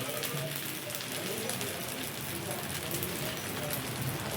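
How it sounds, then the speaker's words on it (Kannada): Steady rain falls continuously as an even, dense hiss of drops striking surfaces, holding at the same level throughout with no voices. "ಇವತ್ತು ನಮ್ಮ ಕಡೆ ಎಲ್ಲ ಮಳೆ ಇದೆ"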